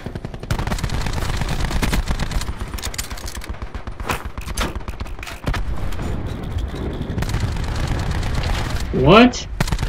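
Rapid automatic gunfire from a Call of Duty Black Ops 4 Domination match with the Rampart weapon, loud and sustained in dense bursts with sharp vertical cracks, a brief rising tonal sting near the end, and a voice talking underneath.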